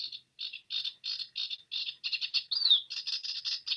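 A sedge warbler delivers its song in quick bursts of harsh, grating notes, broken by short pauses and ending in a more continuous run that carries mimicked phrases, heard alone and close.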